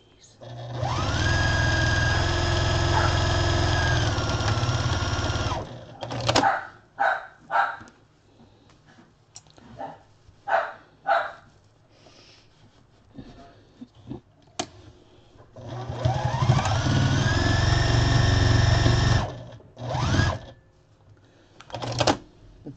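A sewing machine strains through thick layered fabric while a chicken-shaped pot holder is sewn, running in long loud whirring bursts at the start and end, with halting stitches, knocks and brief pauses between.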